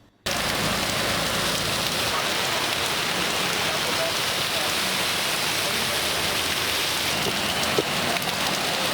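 Heavy rain pours down in Amravati, a dense, constant hiss of drops hitting surfaces that fills the whole stretch at close range with no let-up.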